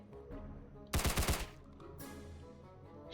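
A short rapid burst of automatic gunfire in a video game about shooting country balls, about four quick shots close together, followed by a fainter trailing noise.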